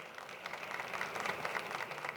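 An audience at a MotorTech panel gives its three participants a short round of applause, soft and distant, with steady scattered clapping and no voices.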